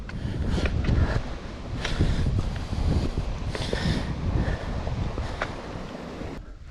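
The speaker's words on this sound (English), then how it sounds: "So you can hear the wind starting to pick up." Gusting wind buffets the microphone on a mountain ridge at Mt Rufus, Tasmania, a rough, roaring rush that swells and eases in uneven surges throughout, loud and close.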